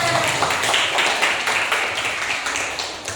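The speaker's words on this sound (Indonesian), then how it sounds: "Baik, tepuk tangan." Schoolchildren in a classroom clap their hands together, a steady, fairly close patter of many small claps that holds evenly throughout without speech.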